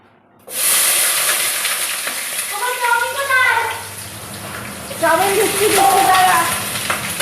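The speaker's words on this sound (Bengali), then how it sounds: "গোটা জিরে শুকনো লঙ্কা ফোড়ন দিলাম এবার পেঁয়াজ আর কাঁচা লঙ্কা দেব" Whole cumin and dried chili tempering in hot oil gives a loud, steady sizzling hiss close by. Someone speaks over it as onion and green chili are added to the pan.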